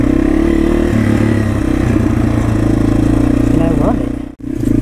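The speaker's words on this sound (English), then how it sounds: "2014 Yamaha TW200, and I actually really, really like this bike." A 2014 Yamaha TW200 motorcycle rides along with a steady, close engine drone and rising revs, while a rider talks over it throughout; a brief dropout comes near the end.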